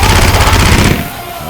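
Rapid automatic gunfire from the Left 4 Dead 2 video game, a loud dense burst of shots that stops abruptly about a second in.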